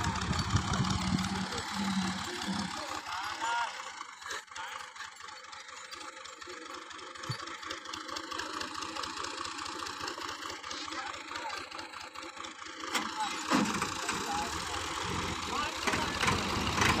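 Tractor engines idle and rumble nearby with a steady mid-pitched chug that rises and dips, mixed with people talking in the background.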